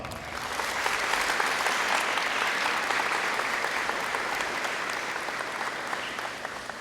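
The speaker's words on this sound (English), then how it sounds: "Please, let's give him a big round of applause." A high school ceremony crowd gives a big round of applause for an alumnus Marine lance corporal, dense and sustained clapping that swells in the first second and holds steady throughout in a large hall.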